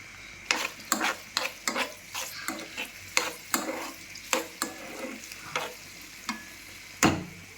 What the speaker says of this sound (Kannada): ನೀರುಳ್ಳಿ ಒಳ್ಳೆ ಫ್ರೈ ಆಗಬೇಕು, ಮೆರೂನ್ ಕಲರ್ ಆಗಬೇಕು.